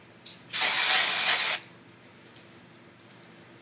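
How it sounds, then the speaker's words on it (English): Dry shampoo sprays onto hair in one loud, close hiss lasting about a second, followed by quiet handling noises. "I sprayed this really liberally throughout my hair."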